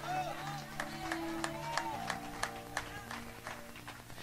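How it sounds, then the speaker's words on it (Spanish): A church congregation claps during a Spanish-language sermon, with quick, fairly rhythmic clapping heard over sustained musical tones, fairly quiet overall. "Dele un aplauso al Señor."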